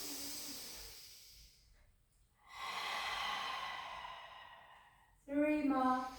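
A long, steady, audible inhale during a Pilates core exercise, breathy and close, following a quieter exhale and ending in a brief voiced sound.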